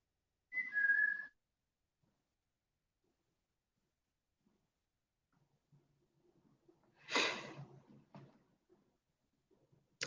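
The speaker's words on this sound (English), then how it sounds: "Whistle." A single short whistled note rings out in the near-silent ruins of a brickworks at night, followed later by faint breathy rustles and a brief murmur.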